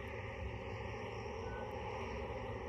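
Royal New Zealand Air Force plane in Antarctica, a steady engine drone holding at an even level throughout with no talk.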